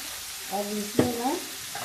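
Spices fry in a pan for a curry, giving a soft, even sizzle close by, with a brief tonal sound laid over it.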